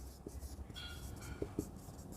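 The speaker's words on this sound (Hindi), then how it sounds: "मैं यहाँ पर लिख देती हूँ" Pen writing on paper during an accounting lesson, a few short faint scratchy strokes close by with a couple of brief taps, alone with no talk.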